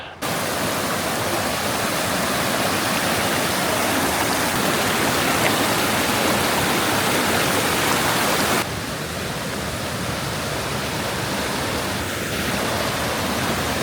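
A river rushing along a hiking trail, loud steady broadband flowing water close by that drops slightly in level partway through, with no voices.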